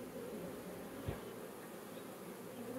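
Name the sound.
honeybees buzzing around queen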